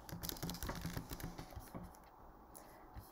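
Fingers type on a computer keyboard, filling in a field in CRM software with a quick, close run of soft key clicks that tapers off, fairly quiet.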